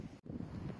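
Wind blowing outdoors by a rocky sea shore, a rough rumbling buffet against the microphone that holds steady apart from one brief drop-out.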